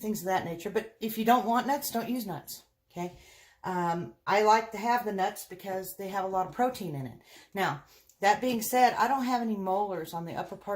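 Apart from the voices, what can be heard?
No everyday noises stand out.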